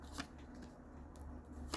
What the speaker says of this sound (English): Y'all see me shuffling these cards.